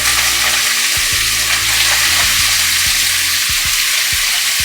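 Amaranth leaves going into a hot pan with dried red chillies set a loud, steady broadband sizzle, with a few sharp spatula knocks scattered through and no voice.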